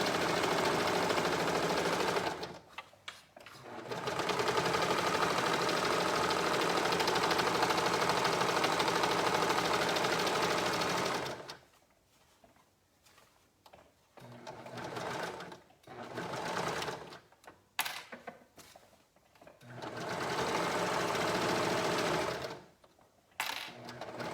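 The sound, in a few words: sewing machine stitching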